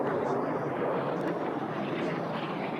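Racing aircraft at the Stihl National Championship Air Races roar past as a steady, loud engine drone with broad rushing noise throughout, no distinct pauses.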